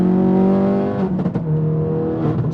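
A heavily modified car accelerates in a racing video game, its engine whine climbing loudly through the gears with a brief break at a shift, close and alone.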